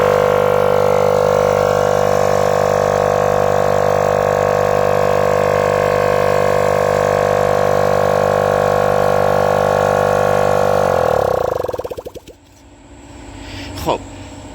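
A Copeland scroll compressor driven by an inverter below its rated frequency runs with a loud, steady harmonic hum for about eleven seconds, then winds down and stops, leaving near silence broken by one brief knock.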